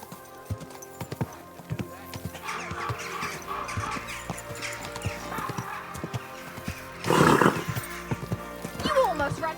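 Hooves clip-clop steadily while a horse gives a loud whinny near the end, with speech running underneath throughout, in the video game Kingdom Come: Deliverance 2.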